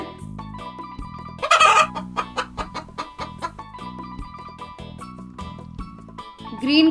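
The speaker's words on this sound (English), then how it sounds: "chicken," A chicken clucks in a series of short, rhythmic, fairly close clucks, with a brief louder squawk near the start and another at the end, mixed with a light musical backing.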